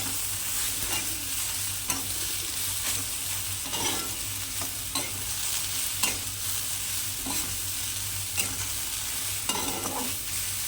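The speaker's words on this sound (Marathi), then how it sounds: "भेंडी टाकल्यानंतर सगळं एकत्र करायचे आपल्याला." Okra bhaji sizzles softly in a pan while a spatula stirs it together, the constant frying hiss punctuated by regular scraping and tapping strokes.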